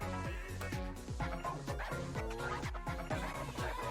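A dog barks and yips in a quick series of close, sharp, pitch-bending calls that repeat every half second or so.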